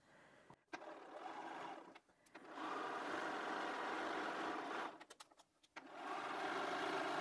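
A sewing machine stitches a quarter-inch seam along the edge of a fabric cushion cover with an envelope back. It runs in steady close bursts, with brief pauses between runs and no talking.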